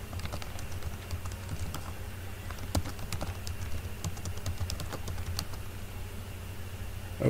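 A password being typed on a computer keyboard, a quiet, steady patter of separate key clicks with a few sharper strikes, alone in a near-silent room.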